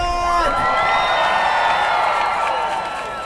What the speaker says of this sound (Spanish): ¡Aplausos para la House of God!